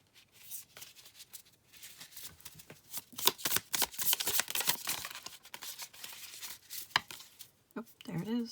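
Archetype cards are shuffled by hand, producing a close, soft flurry of papery riffling and slapping that builds toward the middle and ends with brief faint vocal sounds.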